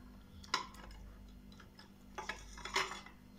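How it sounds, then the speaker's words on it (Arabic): Faint, scattered clinks and scrapes of a knife against a plate as a cake is cut at a small New Year's celebration, a few sharper taps among quiet handling, with no talking. "يلا خلنا نقطع الكيكة"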